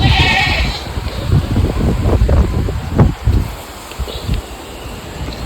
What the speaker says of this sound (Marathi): आज एवढं असं खूप जोरात असं वारं सुटलेलं आहे